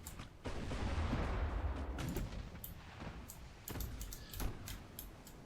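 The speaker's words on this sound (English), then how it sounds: "Ranging shots off already." Warship ranging shots ring out in Ultimate Admiral: Dreadnoughts, a low rumbling boom followed by several sharp, distant cracks spaced irregularly over a quiet background.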